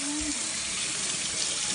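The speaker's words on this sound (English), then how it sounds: "we're gonna rinse that off really well" Water streaming from a kitchen tap while food is rinsed under it, a steady close splashing rush that stays even throughout the short moment.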